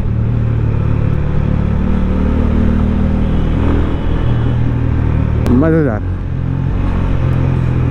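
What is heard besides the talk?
Honda CB350 motorcycle engine while riding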